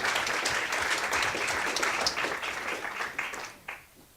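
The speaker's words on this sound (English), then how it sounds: "Please give a round of applause to Nikki." Applause from a ceremony crowd, thick and steady for several seconds before thinning out and tapering off into a few last scattered claps.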